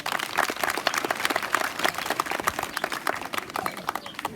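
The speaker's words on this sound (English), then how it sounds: "Let us clap for that." Applause from an audience at a school event, many hands clapping steadily and densely for several seconds, moderately close, with no talk over it.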